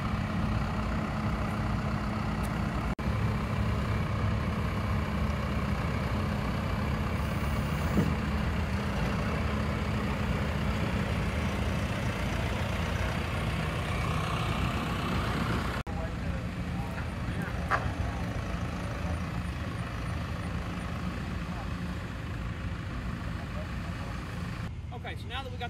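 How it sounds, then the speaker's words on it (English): New Holland T4115 tractor of about 13,000 pounds loading onto a gooseneck trailer, its heavy diesel engine droning steadily at moderate distance while people talk. "Next item we're loading is a new Holland T4115."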